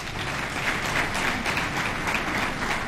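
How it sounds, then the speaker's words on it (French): Loud, steady applause from a large conference crowd, dense clapping continuing without a break. "qui mérite des applaudissements"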